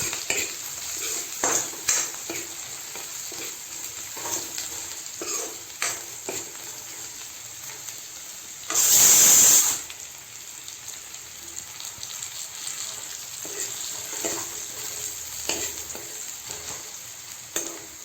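Pork frying in a pan as it is stirred, with a steady crackling sizzle and soft scraping strokes, plus a brief louder hiss in the middle, and no talking.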